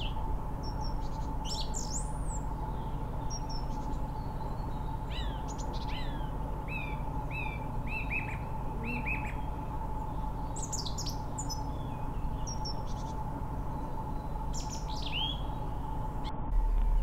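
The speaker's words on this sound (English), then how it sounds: "you can just hear all the bird song and all the natural sounds just so easily" Birds sing and chirp in scattered bright phrases over a constant low rushing background beside the Droitwich Canals, some calls close and others farther off.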